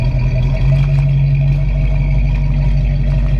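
A 1968 Mercury Cougar with a 302 V8 idles close by, a loud, steady low rumble with an even, slightly lumpy throb and no voices.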